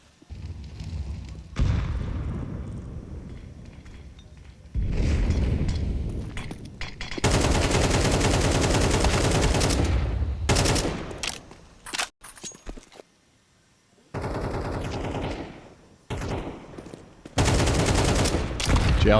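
Counter-Strike gunfire, including wall bang shots and an MP9, during an IEM Melbourne 2025 match between FlyQuest and NAVI: loud bursts of rapid shooting broken by short quiet gaps, with brief commentary underneath.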